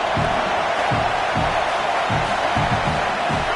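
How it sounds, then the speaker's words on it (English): A football stadium crowd in an NCAA football video game roars as a dense, constant wash of noise, with low rumbling swells and faint cheering throughout. "Man, this crowd really affecting the football game."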